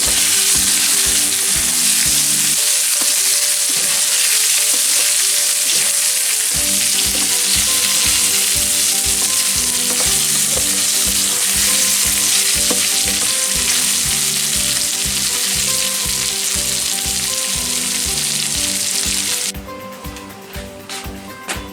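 Chicken fry sizzling loudly in hot oil in a pan, stirred with steady rhythmic spatula strokes throughout, close up, the sizzle thinning abruptly near the end.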